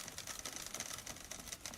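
A brief burst of overlapping typewriter keystrikes in the Alan Wake 2 game, fast and continuous, soft and even in level, with nobody speaking.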